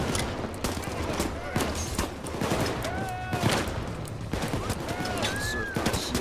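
Cash blaster gunfire in a video game, dense rapid shots mixed with whistling tones and game effects, steady and fairly loud throughout.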